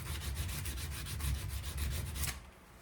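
A hardened, heat-treated horseshoe knife is sanded to remove scratches, producing a rapid rhythmic back-and-forth rasp at close range that stops abruptly near the end.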